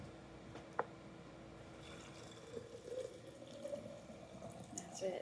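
Water poured into a vessel for a marshmallow root infusion, a soft splashing trickle that builds into a rising gurgle as the container fills, heard fairly quietly with a brief knock near the start.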